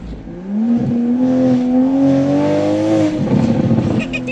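A tuned Toyota A90 Supra accelerates on a mountain road, its engine note rising and holding loud and close from inside the car, then easing off near the end.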